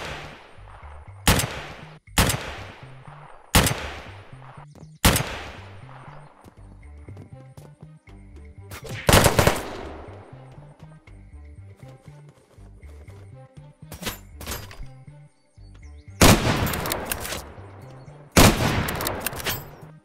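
Gunfire and sniper shots ring out in the Unturned game with the Unturnov mod: a series of loud, sharp cracks spaced unevenly over the stretch, some in close pairs, each trailing off with a short decay over a steady hum of game sound.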